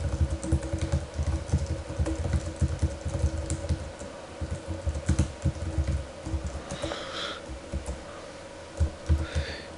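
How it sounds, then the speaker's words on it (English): Rapid irregular keystrokes of typing on a computer keyboard, close and clear, a steady run of clicks over a low background hum, entering text into an application. "I'm going to type some text here."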